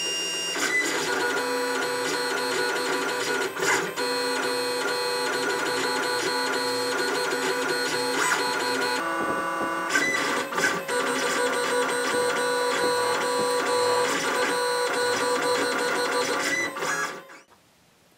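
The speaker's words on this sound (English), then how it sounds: "So that is now motorized and will pop up on demand." A motorized pop-up shoulder cannon mechanism on an Iron Man Hulkbuster cosplay suit whirs steadily and mechanically for about seventeen seconds, then stops abruptly into silence.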